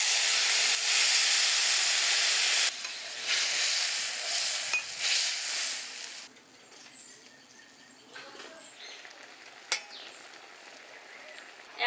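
Water poured into a pan of frying taro stolons with nigella seeds and slit green chillies sets off a loud burst of hissing steam and sizzle, which drops after a few seconds to a quieter crackle with a few small clinks.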